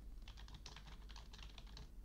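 Rapid typing on a computer keyboard into a word processor: a steady run of quick, close key clicks in irregular bursts, alone with no voices over a faint low hum.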